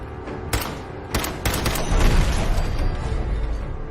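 Gunfire in Fallout 4, a few sharp, loud shots in quick succession followed by a rumbling, booming explosion-like roar that lingers to the end.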